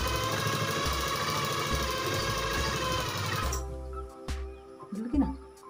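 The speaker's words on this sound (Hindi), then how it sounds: "फिर सिलाई लगानी है।" An electric sewing machine runs fast and steady, stitching rubber elastic into fabric for a balloon top, then stops, leaving a few soft handling clicks and rustles.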